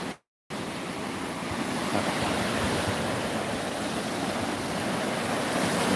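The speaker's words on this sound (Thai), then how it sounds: "ผมกำลังให้ดูบรรยากาศ สดๆริมทะเล" Sea surf washing steadily onto the shore at a Pattaya beach in the morning, a continuous broadband roar that stays fairly loud and even after a brief silent gap at the start, with no talking.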